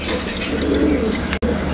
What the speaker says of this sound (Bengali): জাকির ভাই এটা কি কবুতর এটা স্টিক টামলার